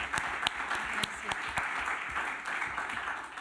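An audience claps for a speaker at a leadership talk, a close, lively burst of applause with a few sharp individual claps standing out over the steady patter.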